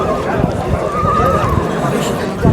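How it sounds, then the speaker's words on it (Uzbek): Horses at an open-air horse market in Uzgen, with a neigh rising briefly in the middle amid crowd chatter and someone speaking nearby, plus scattered hoof and handling noises. "katta otlar o narigi tarafda."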